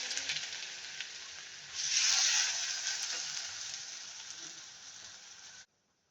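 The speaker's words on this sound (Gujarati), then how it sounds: "આપણી ડુંગળી સંતળાઈ ગઈ છે." Onion and cumin sautéing in oil in a kadai for sev tameta nu shak, a steady bright sizzle that swells louder partway through, then cuts off abruptly, with faint stirring underneath.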